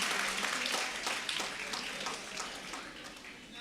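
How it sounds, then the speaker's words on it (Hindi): An audience claps together in an auditorium at an inter college prize-giving ceremony, producing dense, steady, moderately loud applause that slowly fades. "तालियों से इनका हौसला अफजाई करते रहें"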